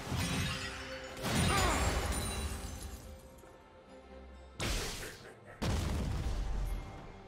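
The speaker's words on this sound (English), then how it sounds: "Team's turret has been destroyed." A turret is destroyed in League of Legends, with a series of loud crashing, shattering bursts, a long crumbling roar first, then two sharp impacts close together near the end, over faint game ambience.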